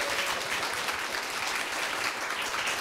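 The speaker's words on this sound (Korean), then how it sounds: "다시 한번 큰 박수 부탁드리겠습니다" Audience applause after a lecture and ensemble performance at a talk event, steady dense clapping throughout with no gaps.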